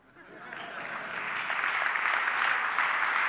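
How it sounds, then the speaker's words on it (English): An audience at a software launch event breaks into applause, the clapping rising from quiet to a full, steady roar over a few seconds. "I guess you mean BIMX by clapping."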